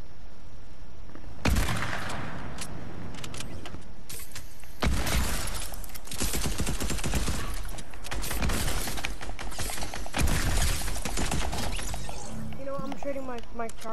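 Tactical SMG gunfire in Fortnite crackles in rapid bursts and scattered shots over game effects, with a player talking throughout.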